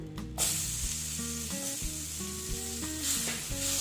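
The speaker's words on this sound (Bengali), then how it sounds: "বেসনটার মধ্যে ভেজে নিচ্ছি" Tomato frying with besan (gram flour) in a pan, a close, steady sizzle with occasional stirring scrapes, while a tonal hum runs underneath.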